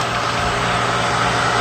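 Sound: motor running

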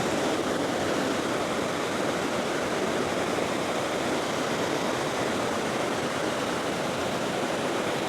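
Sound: waterfall flowing over rock slab, Mae Wa National Park

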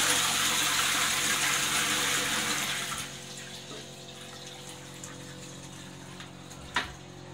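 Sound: flushing a low-level VitrA toilet in a pub

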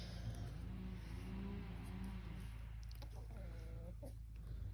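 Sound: chicken clucking

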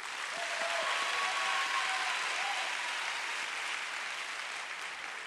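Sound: audience applause

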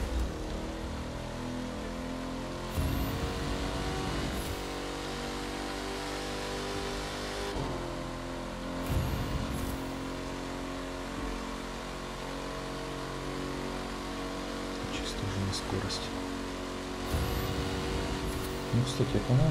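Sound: Ford car engine racing in video game The Crew 2

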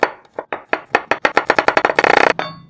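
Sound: knife slicing garlic

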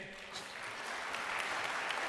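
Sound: applause

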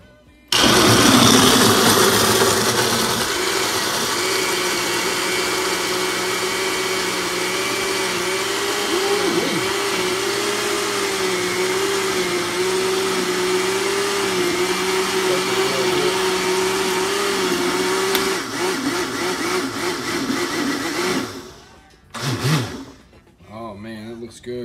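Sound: blender mixing a smoothie

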